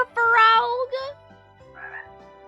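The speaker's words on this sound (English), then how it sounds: "A frog with the sound effects." A frog croaks in the Chained Echoes video game, a short burst of croaking calls followed by a softer one, set against gentle game ambience with no talk.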